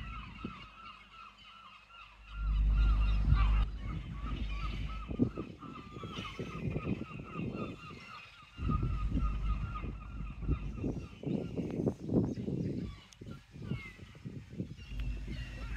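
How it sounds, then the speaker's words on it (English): Seagulls call repeatedly on a beach at low tide near a pier, with loud, harsh squawks and cries overlapping in bursts over a low wind rumble, fairly close by. "Seagulls have got something nice down there."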